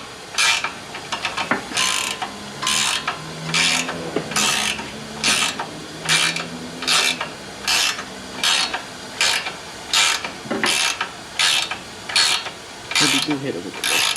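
A ratchet wrench tightens leveling kit bolts on a 2022 Toyota Tundra truck, giving about a dozen close, rhythmic bursts of clicking strokes with short pauses between them.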